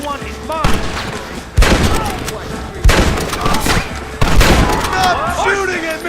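Gunfire during a gate assault in Red Dead Redemption, with loud bursts of rapid shots and heavy thumping booms in repeated waves, close and dense, while people shout over it.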